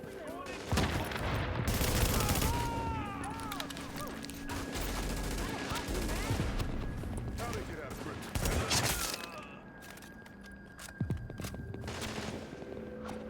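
Rapid bursts of automatic gunfire and shots in the shooter game The Division, loud and near with scattered impacts, under in-game voices.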